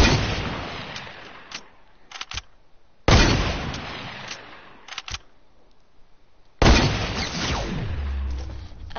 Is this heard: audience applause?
no